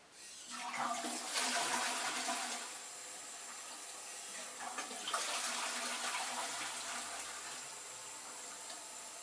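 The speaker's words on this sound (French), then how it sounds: "le système de chez Virkin, chasse d'eau Tronic, au niveau hygiène, c'est parfait" A Virkin Tronic toilet flush system is flushed, with two surges of rushing water a few seconds apart. Each one swells, then eases into a quieter trickle as the bowl refills.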